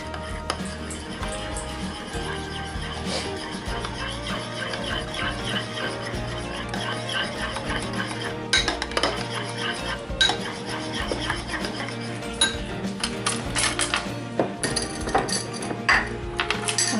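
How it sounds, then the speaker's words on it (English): Honey, mustard and lemon juice mixed together for a dipping sauce, a utensil scraping and clinking steadily against a bowl in close, continuous rubbing strokes. "give that a good mix"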